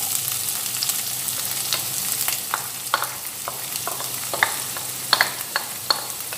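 Onions frying in a pan with ginger and garlic for gobi manchurian give a steady sizzle with scattered crackles and pops, close and fairly loud, with no talking.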